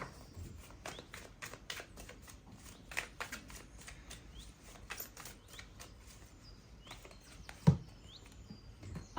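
Tarot cards shuffled from a deck, a run of quick soft riffling flutters and light slaps, close and fairly quiet, with a faint bird chirping in the background.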